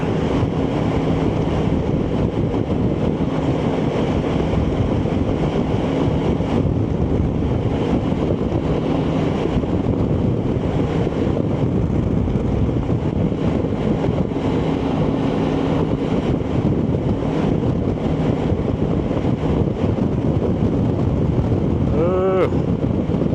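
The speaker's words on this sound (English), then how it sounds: "Is that wind blowing?" Steady wind buffeting a microphone while riding a BMW K1600 GTL motorcycle near Albuquerque, New Mexico, a loud continuous roar that lasts throughout and mixes with the engine hum.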